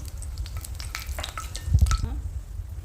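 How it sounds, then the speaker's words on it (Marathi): Close-up crackling and sizzling of almond slices frying in hot ghee, with soft scraping as they are stirred. "बदामाचे काप आपल्याला परतून घ्यायचे आहे आधी."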